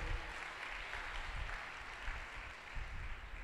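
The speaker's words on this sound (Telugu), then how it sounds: "కొట్టో చప్పట్లో" A church congregation at a sermon claps its hands in a steady, faint patter of applause lasting a few seconds, with no voices over it.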